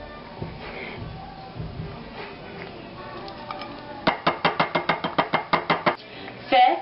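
A spoon stirs a pot of ratatouille with tomato soup, red pepper and zucchini. Soft shuffling and scraping give way to about a dozen quick, evenly spaced metallic clinks against the pot, then a final louder clatter.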